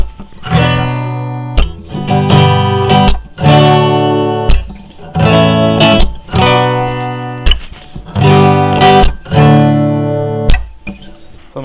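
Electric guitar strummed at full tempo in a tune, played with a down-up pattern and rhythmic string mutes, giving loud chord bursts separated by short choked gaps in a steady syncopated groove.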